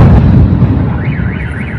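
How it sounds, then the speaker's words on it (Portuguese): A loud, deep explosion booms at the opening during a strike on Rostov-on-Don, and a car alarm starts wailing in a warbling pattern as the rumble fades. "Houve um total de 3 grandes explosões"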